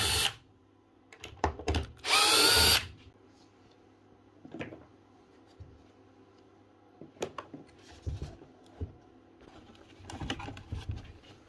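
Power drill backing screws out of a Metabo vacuum cleaner casing, short whirring bursts separated by clicks, handling noises and quiet gaps.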